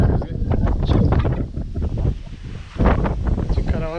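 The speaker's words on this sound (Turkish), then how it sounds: "Bayağı rüzgar çekti" A gusty sea wind by the shore at Dikili, near a parked caravan, thumps and rumbles against the microphone in uneven bursts while someone speaks close by.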